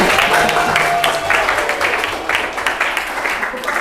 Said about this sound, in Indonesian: Tepuk tangan untuk yang dapat 100 ya